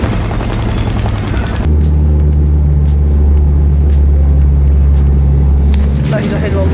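An electric car drives through a water puddle, a sudden loud rushing splash and low rumble that holds for several seconds before easing, with an earlier stretch of vehicle noise.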